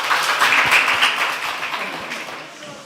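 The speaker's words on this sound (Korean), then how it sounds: "박수 한번 해주세요." Church congregation clapping after a prayer during a Sunday worship service, a dense wash of applause that starts strong and slowly fades over about three seconds.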